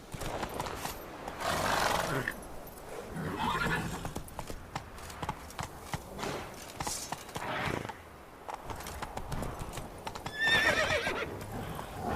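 Roach the horse in The Witcher 3 galloping with rhythmic hoofbeats, neighing and snorting in several bursts amid clattering movement, fairly close and steady throughout.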